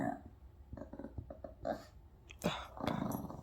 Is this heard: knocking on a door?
no